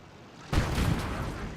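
Incoming artillery rounds in the WWII strategy game Gates of Hell, a sudden heavy boom after a quiet moment, followed by a sustained rumbling roar and scattered impacts.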